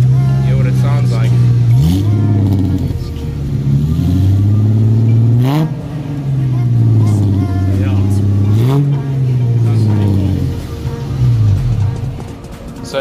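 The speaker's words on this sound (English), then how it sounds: "So yeah, I really like the sound of it being a single exhaust and a V6." 1995 Ford Mustang SN95 with a V6 and single exhaust revved while parked, several loud rises and falls in engine pitch, each rev swelling then settling back to a rumbling idle, close to the car.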